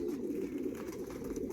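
Young racing pigeons in a stock shed coo continuously in a dense, low murmur, close by and steady with no pauses.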